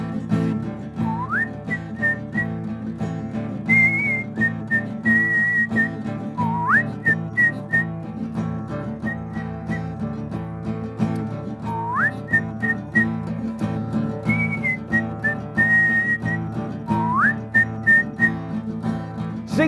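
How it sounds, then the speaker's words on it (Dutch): A whistled children's song tune, a simple repeated melody with upward-sliding notes, carries steadily over warm instrumental backing for the whole stretch, with no talking. "Gaan we weer fluiten."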